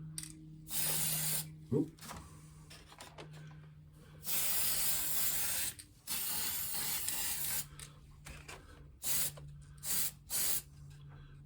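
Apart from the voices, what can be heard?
spray paint can painting Me 262 model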